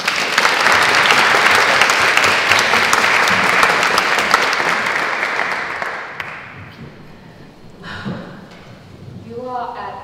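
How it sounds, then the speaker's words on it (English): A large audience at a public conversation event breaks into loud, dense applause that holds steady for about six seconds, then fades out as a voice begins speaking. "Can we please have a round of applause?"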